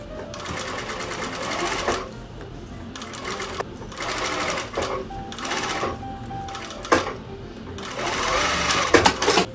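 A home sewing machine stitches fabric for a pair of bloomers with a short stitch length, running in repeated rapid bursts of close needle clatter with brief stops and small mechanical clicks between them.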